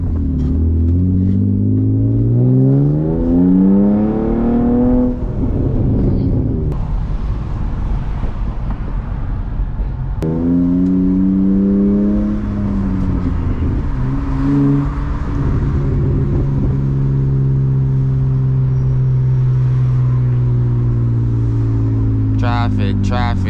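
Manual BMW E36 328i engine revving with crackling exhaust pops, driven on a rainy morning in traffic; the engine note rises and falls loudly and close, with someone talking over it throughout.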